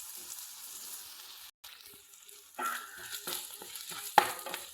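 Food sautéing in a pan in a home kitchen while a wheat-flour dish is cooked, with salt added: soft scraping stirs and a faint sizzle, a brief pause, then busier, louder stirring with a sharp clack near the end.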